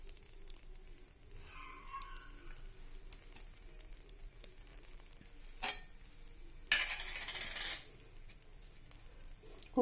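Khoa stirred into bread halwa in a pan of ghee, with a soft sizzle under scraping spoon strokes and a burst of louder frying hiss partway through.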